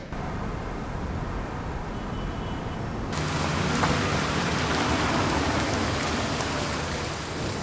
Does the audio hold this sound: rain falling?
yes